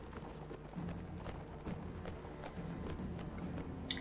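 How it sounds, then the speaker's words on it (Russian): Horse hooves clop in a steady, fast rhythm as a horse runs on its own in the Mount & Blade Warband game, moderately loud and continuous, with no talk over it. "у меня просто лошадь едет сама"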